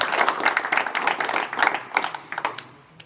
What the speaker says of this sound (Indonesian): Tepuk tangan yang luar biasa.